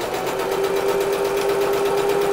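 A sewing machine stitching fabric for summer clothes, a loud, close, continuous whirring hum with a fast steady needle rhythm, no talking.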